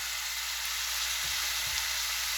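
Mushrooms sizzle steadily in a hot pan as cheddar cheese is sprinkled over them, a constant close frying hiss with a couple of soft low thumps, no talking.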